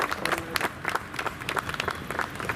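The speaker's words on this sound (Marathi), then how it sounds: "सर्वांनी टाळ्या वाजवून" Rapid clapping from an audience at a monthly Basaveshwar Maharaj Anubhav Mantap event in Nigdi, quick uneven hand claps forming a brief burst of applause close by.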